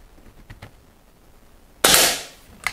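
An Air Arms S400 air rifle fires with a single sharp, loud crack that decays quickly, followed by a fainter pair of snaps near the end against a quiet background.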